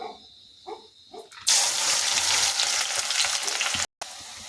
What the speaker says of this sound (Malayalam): ഇനി നമ്മൾ നേരത്തെ അരിഞ്ഞു വെച്ച ഉള്ളി കൂടി ഇതിലേക്ക് ഇട്ട് കൊടുക്കാം.